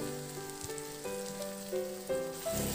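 Marinade poured over pork ribs in a hot pan, a steady soft sizzle and crackle close by, with a tonal hum running beneath it.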